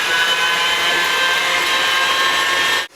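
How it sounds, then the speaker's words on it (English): An electric mixer whirs continuously and loudly through cream cheesecake filling with vanilla essence, then cuts off abruptly at the end. "And we're going to mix away."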